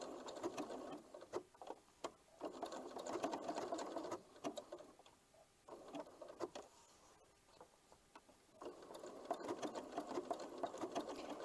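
A sewing machine stitches a zigzag blanket stitch along the edge of a heart and flower applique block, running in quick rhythmic bursts of needle clatter separated by short pauses, close and fairly quiet.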